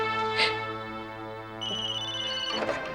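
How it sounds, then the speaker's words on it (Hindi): A phone ringtone plays steadily, a sustained electronic melody with a higher tone joining partway, followed by a brief rustle near the end. "नो अश्विनी, मत लेना फोन।"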